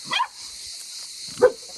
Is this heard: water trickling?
no